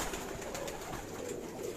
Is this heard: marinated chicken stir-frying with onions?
no